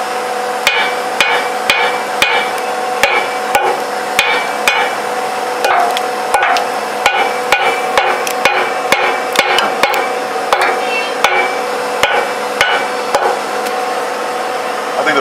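A long run of loud, sharp hammer strikes on seized trailer brakes at a rail yard, some spaced and some in quick bursts, close and clanging with a faint engine hum beneath.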